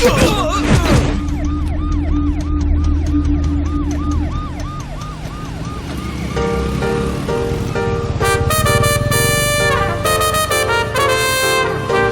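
An ambulance siren in a film scene wails loudly and up close in repeated rising-falling sweeps, then gives way to rapid tooting horn-like tones over a busy background.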